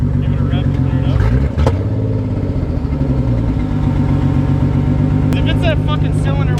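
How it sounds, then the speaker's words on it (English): A Nissan 300ZX engine with a suspected cylinder 1 coil fault revs loudly up close, its steady rumble rising and falling through a couple of blips, with people talking over it. "give it a rev to clear it up."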